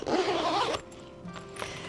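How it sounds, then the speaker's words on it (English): A zipper on a Nayo Smart Urban U7 travel and hiking backpack is pulled closed in one loud, steady rasping run lasting under a second, followed by quieter handling rustles. "Let's zip it back up."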